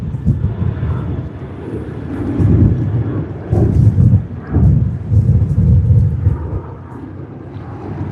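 Jet airliner departing runway 25 at Sydney Airport, a broad low rumble that swells and roars steadily through the clip, moderately near with gusty wind noise on the microphone.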